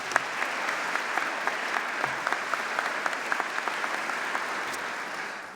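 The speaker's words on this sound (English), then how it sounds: "Let's give them a round of applause." Audience at a graduation convocation applauds, a moderately distant, steady patter of many hands with a few sharper individual claps standing out, holding evenly before tapering slightly at the end.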